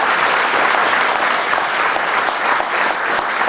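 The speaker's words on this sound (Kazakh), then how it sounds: "Бір шапалақ қағып жіберіңіз" Steady, dense applause from a comedy show audience, a continuous wash of many hands clapping close and loud throughout, with no voices over it.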